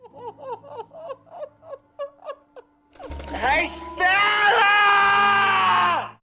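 A man in a dramatic film scene breaks into loud, sustained screaming and wailing after a run of short choppy sobbing gasps, close and intense.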